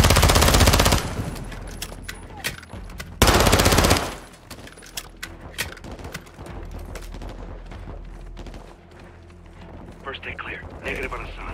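Heavy automatic gunfire in the Modern Warfare II campaign, a dense, loud roar of sustained bursts at the start and again around three seconds, then scattered sharper shots and clatter under game noise and battle effects.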